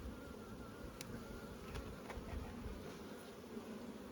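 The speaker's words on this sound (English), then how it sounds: "Lovely calm bee though. Compare these to some of the old the bees I did yesterday." Buckfast honey bees buzz steadily on a hive frame, a dense, continuous close-up hum with a few individual bees flying past, and no talking.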